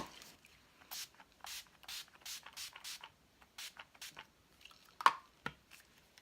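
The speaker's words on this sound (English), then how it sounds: "I'm gonna like spritz my face." Setting spray misted onto a face in short repeated spritzes, each a soft airy hiss, about eight bursts in a steady rhythm, close and fairly quiet, followed by a couple of faint handling taps.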